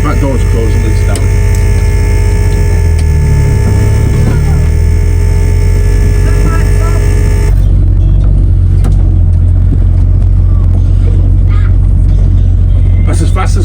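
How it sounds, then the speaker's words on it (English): A broken-down bus engine idles and hums loudly from inside the vehicle as it starts and creeps along slowly, a steady low drone with a brief rising throttle swell; a voice talks over it. "The bus is starting and I've got a little bit of throttle."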